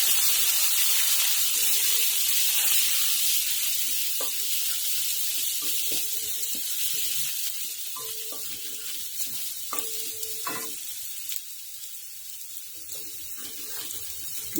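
Garlic paste sizzling in hot oil for a whole-onion curry, a continuous close sizzle with scattered clinks and scraping of a spoon stirring the pan, gradually easing toward the end, no talking.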